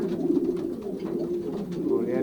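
Low, rolling cooing of several pigeons close by in a pigeon loft, with overlapping throaty calls throughout.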